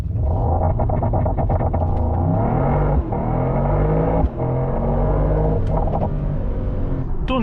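A 2026 Mercedes-AMG GT 63 PRO's engine roars hard under acceleration, loud and close. Deep rumbling climbs in pitch, with quick breaks at two gear shifts, and no voices over it.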